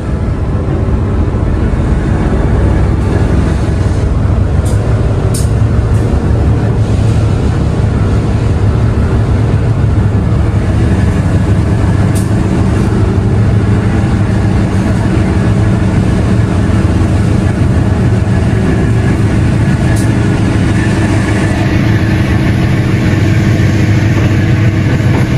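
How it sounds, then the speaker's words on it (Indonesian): Vintage locomotive at Wonokromo station rumbling steadily as the train departs, a loud, continuous low engine drone with faint metallic squeaks over it. "Mari kita lihat dan dengarkan suara deru lokomotif."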